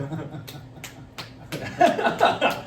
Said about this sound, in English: Clapping for the raw doggy Travis Kelce joke.